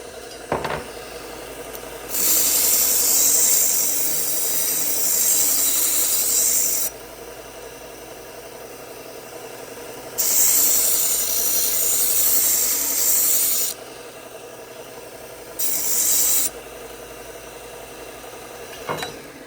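Knife blade sharpened on a 120 grit Cubitron abrasive belt, three loud hissing grinding passes of a few seconds each over a steady machine hum, separated by quieter pauses, with no talk.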